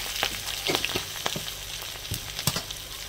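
Green chillies and cumin powder sizzle in hot oil in a village kitchen pan, a steady crackling fry broken by sharp spits and pops, close and fairly loud with no voices.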